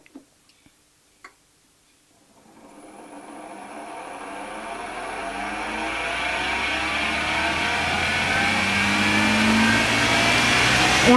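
A polishing machine spins up from silence, a steady mid-pitched whir that climbs and grows louder until it holds at full speed, preceded by a few soft clicks, used to apply a food-safe finish.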